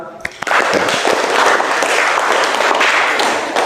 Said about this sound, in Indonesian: Oke, tepuk tangan buat Rifan.